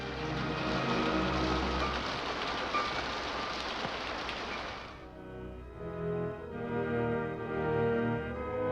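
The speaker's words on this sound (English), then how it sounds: "It's going to rain." Steady rain patters densely on a surface for several seconds, then thins out as soft music-like tones take over.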